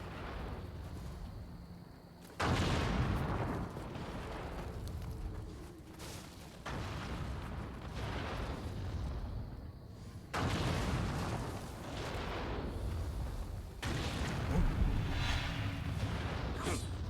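Enemy cannon fire in the action game Nioh 2, with several heavy booming blasts standing out from dense, rumbling game noise.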